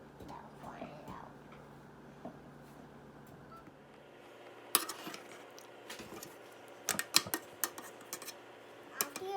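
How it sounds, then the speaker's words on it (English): A spoon scrapes and taps against a dish while pressing a strawberry cheesecake crust flat, with soft clinks and light scraping getting busier toward the end, quiet and close. "flatten it out with a spoon or something"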